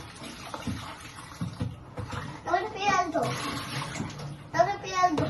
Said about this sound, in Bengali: আলু আর পেঁয়াজ এই দুটো আমি একটু ধুয়ে নিই